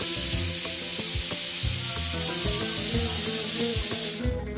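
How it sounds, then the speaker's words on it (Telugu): A pressure cooker on a kitchen stove, cooking taro root with mutton, lets out a loud, continuous, close hiss of escaping steam over light background music, cutting off abruptly near the end. "pressure cooker విజిళ్ల రిధంకి"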